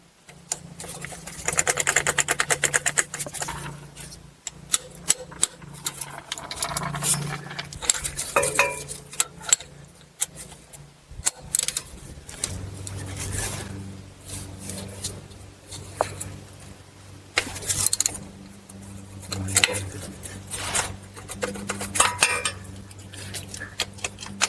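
A hex ratchet works loose a plug on the transfer case of a Buick Enclave or Chevy Traverse, giving sharp metallic clicks and tool clatter close by in a quiet garage, with no talk.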